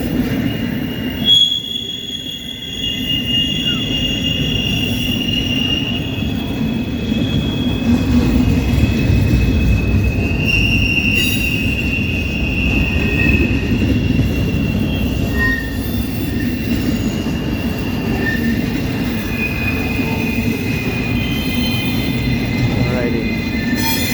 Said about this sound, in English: I get the sense that the back of this train is already approaching.